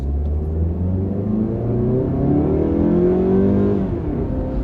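A car accelerates from a stop, its engine rumble climbing in pitch through one rising sweep and then easing as the gear changes, heard from inside and steady throughout.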